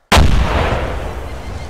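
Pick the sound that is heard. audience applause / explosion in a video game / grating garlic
explosion in a video game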